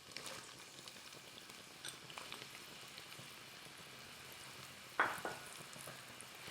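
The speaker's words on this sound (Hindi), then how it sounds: "थोड़ा सा ऑयल हो जाए फिर हमने साथ ही बिस्मिल्लाहिर्रहमानिर्रहीम थोड़ी सी ये प्याज ऐड कर देनी है" Onions added to hot oil in a kadai for chicken karahi, a faint, even sizzle throughout, with one brief sharper crackle or clink near the end.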